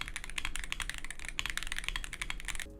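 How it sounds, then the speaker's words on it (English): Typing on an aluminum keyboard with smooth linear switches: rapid, steady keystrokes clatter close and clear with no talk, then stop abruptly near the end. "these linear sky switches are ultra smooth and this board sounds pretty good too"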